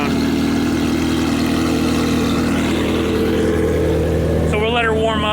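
A Ferrari 348 Spider warming up at idle inside a garage, a loud, even, rumbling engine hum throughout, with a voice coming in over it near the end.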